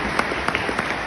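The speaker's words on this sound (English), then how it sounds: "you can applaud, please" An audience at a Schumacher 75th anniversary event featuring Highcon breaks into brief, dense applause, a continuous patter of many hands with a few sharper claps standing out.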